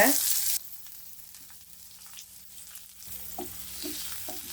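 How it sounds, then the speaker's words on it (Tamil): Onions sizzle and fry steadily in hot oil on low heat, with faint stirring clicks and scrapes; a louder sizzle burst at the start, then a quieter, even crackle. "சிம்மில் வச்சு வெங்காயத்தை நல்லா வதக்கிக்கலாம்"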